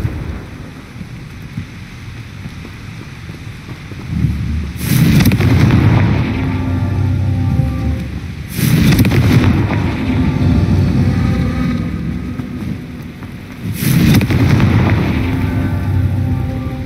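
Confringo fire spell blasts in the video game Hogwarts Legacy give three loud, booming bursts, each trailing into a rumbling crackle, over a constant low ambient bed.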